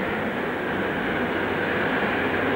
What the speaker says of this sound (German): jetzt kommt der Zug sofort her